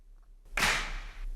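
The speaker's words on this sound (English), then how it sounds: "That's my open clap," A single sharp clap hit with a bright, noisy burst that rings out and decays over about half a second, heard alone.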